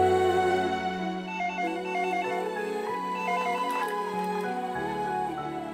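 A telephone rings with a repeating electronic trill in steady bursts, loud and close, behind soft background music with no talking.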